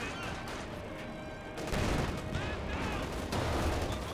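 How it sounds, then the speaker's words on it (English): A light artillery barrage from a ZiS gun in the game Company of Heroes 2, with heavy rumbling blasts and crackling impacts over a busy battle din, growing louder midway with several sharp reports. "And here the light artillery barrage there from the Zis gun as well"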